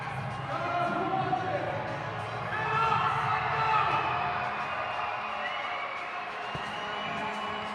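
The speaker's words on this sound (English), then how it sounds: "That brought the crowd to their feet." Hockey crowd at a Cedar Rapids Rampage versus St Louis Ambush game rising to its feet, a sustained roar of cheering and shouting that swells and holds steady throughout.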